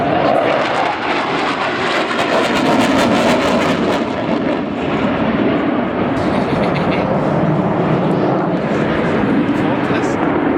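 A Tornado GR4 jet flies at the RAF Leuchars Air Show in 2011, its loud, continuous engine roar filling the whole stretch while voices from onlookers murmur underneath.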